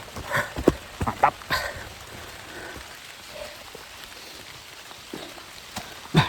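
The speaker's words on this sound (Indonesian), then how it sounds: "Hujan lagi dikit." Light drizzle patters steadily on a foggy mountain trail on Mount Halimun Ciputri, with a few louder nearby drop hits scattered through the soft rain noise.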